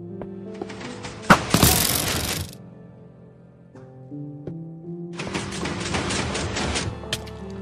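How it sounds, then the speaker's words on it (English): Blocky explosion bursts from the Xbox 360 edition of Minecraft during an obstacle course game: two loud crackling blasts a few seconds apart, separated by quieter game noise, with no talk over them. "Don't mind if you hear an explosion."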